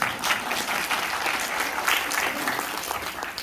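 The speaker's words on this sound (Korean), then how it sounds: "박수 한번 주시죠." An audience at an awards presentation meeting claps in a dense, even round of applause that swells slightly midway and fades a little toward the end.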